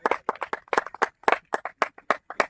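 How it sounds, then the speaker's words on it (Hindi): A small group claps outdoors for the winner of a banana-eating challenge, sharp separate handclaps in an uneven, quick rhythm, close and fairly quiet, with no talk over them. "तालियां बजाएंगे भाई।"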